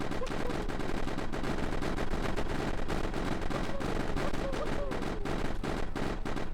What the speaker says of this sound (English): Just group them up and then just sort of run around and just keep shooting them.